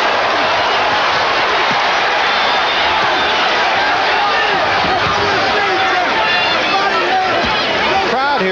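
A boxing crowd roars and cheers at the Omni during a 15-round heavyweight fight, a dense, steady wall of arena noise with whoops and whistles rising over it throughout.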